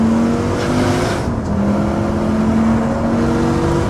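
A Lamborghini engine pulling hard on a highway, heard from inside as a loud, steady drone with a rising pitch as it accelerates, the gear changing briefly partway through, no talking.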